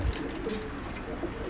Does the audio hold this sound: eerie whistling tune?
no